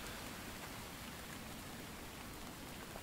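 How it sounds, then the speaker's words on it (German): Rain falling in the survival video game The Infected, a steady, even hiss of rainfall that stays constant throughout with no voices. "Aber ist ja schon mal schön, dass es regnet."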